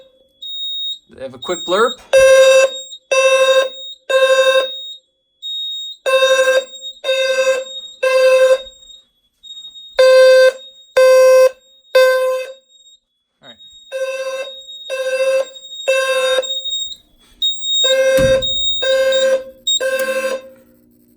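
A Gentex fire alarm sounds a temporal 3 pattern: loud, close groups of three harsh horn blasts, each group followed by a pause, repeated several times, with brief talking at the start and a thump near the end.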